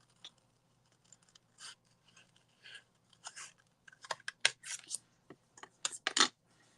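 Scissors snip through paper while crafting a paper pumpkin card project, a series of quiet, short crisp cuts, sparse at first and then quicker and louder, close by without talk.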